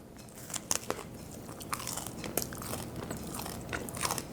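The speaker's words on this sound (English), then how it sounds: "now for my taste test, the rye bread with butter." Close, quiet crunching bites and chewing of dark German rye bread made from 100% rye flour and spread with butter, with several sharp crackles followed by steady chewing and no speech.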